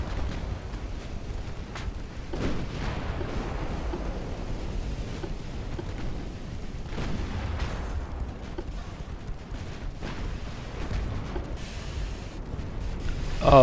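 Naval gunfire shelling a ship in Ultimate Admiral: Dreadnoughts, a 1905 pre-dreadnought battle, with repeated dull booms and thuds rising out of a constant low rumble, spaced irregularly and fairly distant.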